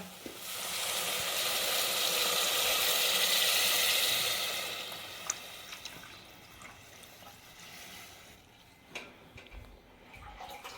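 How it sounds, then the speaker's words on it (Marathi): Lentil cooking water pours into a simmering amti, giving a steady liquid rush and faint sizzle that swells, then fades into a few soft clinks and drips. "आता आमटीत आमटीत ओतते"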